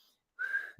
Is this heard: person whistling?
yes